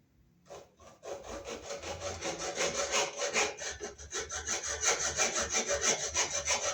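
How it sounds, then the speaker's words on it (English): Hacksaw cutting across MC armored cable at an angle: a few tentative strokes, then steady rhythmic back-and-forth rasping, close and growing louder, with no talking. "we'll use our hacksaw here. We'll cut it at an angle like this."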